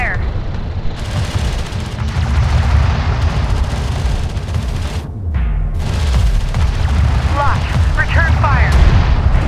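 Turret gunfire from the real-time strategy game Homeworld: Deserts of Kharak rumbles as a dense, continuous barrage of booming shots and explosions, with brief radio-style voices mixed into the roar.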